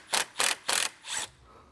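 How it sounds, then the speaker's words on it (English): Four short, bright whirring bursts from a tool remove T25 Torx screws from a BMW F30 intercooler, close and fairly quiet, each burst separated by a brief pause. "Our intercooler is secured with two T25 Torx screws. So go ahead and remove that now."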